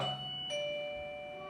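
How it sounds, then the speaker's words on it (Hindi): An electronic doorbell chimes with a couple of clear sustained tones, ringing alone with nothing else around it. "और अब देखना डोरबेल बजाइए"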